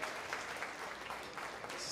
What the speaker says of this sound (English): Please, can we give them a round of applause one more time?